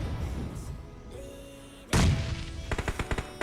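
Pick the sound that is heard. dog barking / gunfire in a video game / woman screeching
gunfire in a video game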